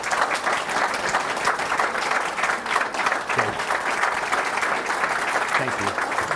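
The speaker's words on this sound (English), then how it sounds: "Another round of applause." Sustained applause from an audience at a speaking event at a golf club, steady clapping filling the whole stretch with some crowd murmur and voices underneath.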